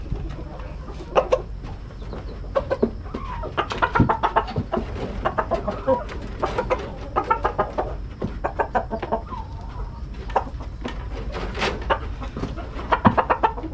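A flock of chickens in a coop clucks busily during morning feeding, with bursts of overlapping calls rising and falling close by.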